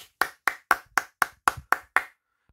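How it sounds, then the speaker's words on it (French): One person claps eight times in an even, steady rhythm, each clap sharp and close, then the claps stop and quiet follows. "suivi de mes applaudissements."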